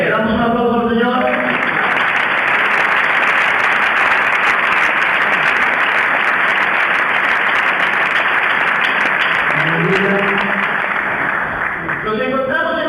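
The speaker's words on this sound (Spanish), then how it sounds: "Le damos un aplauso al Señor" A congregation at a preachers' meeting claps together in sustained, loud, even applause for about ten seconds, with a voice speaking briefly at the start and again as the clapping ends.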